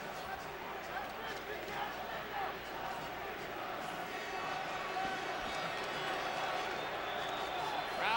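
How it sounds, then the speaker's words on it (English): Lively boxing crowd at a women's bout between Christy Martin and Cathy Collins, a dense, steady roar of voices and shouts that swells slightly toward the end, with a commentator talking over it. "Crowd getting into the fight."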